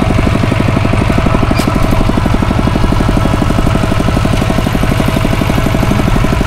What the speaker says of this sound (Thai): ขาใหญ่มาขี่รถไถตึ๊กๆ